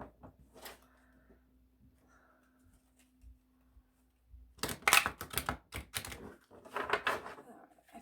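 Oracle cards are shuffled by hand in a few quick bursts of crisp riffling and slapping, close and fairly loud after a quiet stretch with faint handling.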